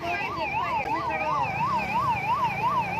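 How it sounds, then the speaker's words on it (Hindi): An ambulance siren wails in a steady repeating up-and-down pattern on a road during a roadblock in Rajgangpur, loud and continuous over low traffic rumble. "देख सकते हो अभी यहाँ पर एम्बुलेंस आया है"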